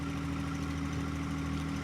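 A John Deere compact tractor engine runs at a steady idle close by, a continuous even hum with a slight knocking rumble and no voices.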